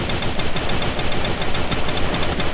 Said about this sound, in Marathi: ताबडतोड फायरिंग देते हुए यहाँ पे